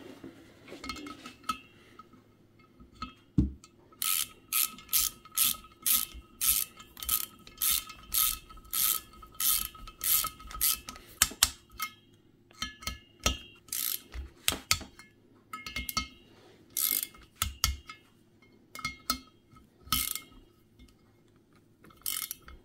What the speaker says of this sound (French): donc je serre. On les serre à 10 newtons.